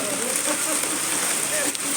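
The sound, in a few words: rain falling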